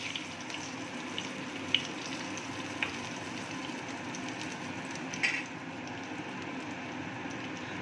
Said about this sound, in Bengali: আমি এখানে তেলের মধ্যে 4টে ছোটো এলাচ ফোড়ন দিয়ে দেবো আর একটা তেজপাতা